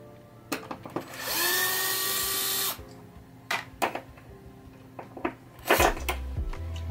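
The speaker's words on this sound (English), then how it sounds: "Just going to remove all these screws here." A power screwdriver whirs in short bursts, with one longer run of a couple of seconds, as screws are backed out of a 1974 Williams Star Action pinball relay board, separated by clicks, clatter and handling noises.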